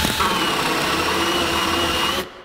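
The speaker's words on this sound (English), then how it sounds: "Now when you're drilling, you kind of do a little bit of a rocking motion" Power drill boring holes in a wooden Vivaldi board for overwintering honey bee hives, a loud, steady whirring drone that runs nearly two seconds before stopping sharply, close up with no speech.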